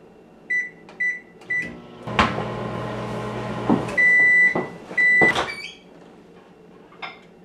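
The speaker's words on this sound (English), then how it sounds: "you're going to put it in your microwave, and you're going to cook it for about 30 seconds" A microwave oven hums steadily for a couple of seconds, then several sharp electronic beeps sound, with soft clicks and knocks around them.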